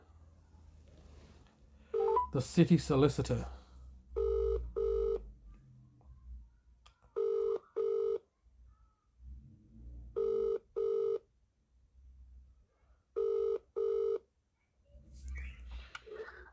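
A phone line rings out, giving repeated paired electronic ringback tones in a steady rhythm at a Bradford Council legal department number. A brief spoken phrase comes early, with faint background murmurs between the rings.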